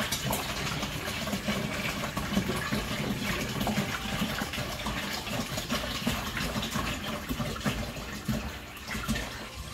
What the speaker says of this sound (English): I'm going to add 1 gallon of cold water to the fermenter.